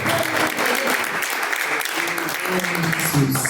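Church congregation clapping in praise during a live IPDA service, a dense, steady wash of many hands throughout, with faint voices underneath.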